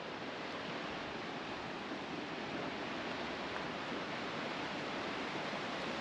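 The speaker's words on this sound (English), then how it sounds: "They call it Brooks Falls. I would say it's more rapids." Rushing rapids at Brooks Falls in New River Gorge, West Virginia, a steady broadband roar of churning water, loud and continuous with no voices over it.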